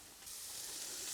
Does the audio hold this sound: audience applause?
no